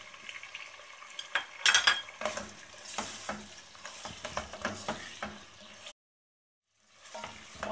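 Onions frying in a pan for mutton gravy, a steady sizzle broken by scraping stirs and clinks of a spoon against the pan, close, with a brief silent gap near the end.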